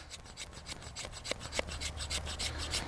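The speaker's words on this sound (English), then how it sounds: "This is almost more like scraping a feather stick, but it's actually working pretty good on this particular piece of wood" A Glock survival knife scrapes a feather stick from a piece of wood, giving a close, steady series of rasping strokes in an even rhythm with no talking.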